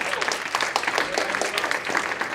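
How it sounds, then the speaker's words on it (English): Short burst of applause from a school audience for the principal, brisk clapping with uneven peaks over about two seconds and a faint murmur of voices under it. "Can you guys give him a round of applause?"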